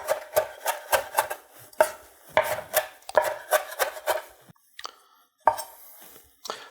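Broccoli chopped by hand with a knife on a board, a quick rhythmic run of sharp close chops in bursts with brief pauses, loud and alone without talk.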